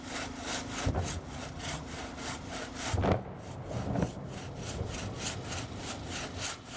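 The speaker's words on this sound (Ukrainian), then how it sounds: "через усей цей шум канонади доноситься звук від пилки дружба" A Druzhba saw cuts firewood with a steady back-and-forth rasp of repeated strokes, close and clear, each pass scraping through the wood at an even rhythm with a few heavier knocks along the way.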